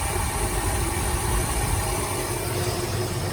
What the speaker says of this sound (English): Running pretty nice, nice even idle.